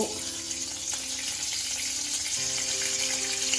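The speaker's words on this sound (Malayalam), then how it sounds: "വെളിച്ചെണ്ണ ഒഴിച്ചു, അതിലേക്ക് ഉലുവ ഇട്ടു" Fenugreek seeds frying in hot coconut oil for a Kerala fish curry, a steady close sizzle with a faint background hum, no talking.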